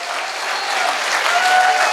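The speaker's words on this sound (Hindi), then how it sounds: "तो एक बार जोरदार तालियां होनी चाहिए।" Loud audience applause swells across a large launch event hall, a thick, continuous roar of clapping that builds slightly over two seconds.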